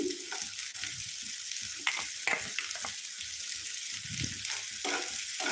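Chopped carrots frying with garlic in a pan for pasta: a dense, steady sizzle with scattered stirring scrapes, close and continuous.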